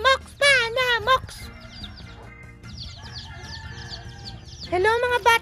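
Chickens cluck in short bursts while a rooster crows loudly at the start and again near the end, with farmyard noise in between.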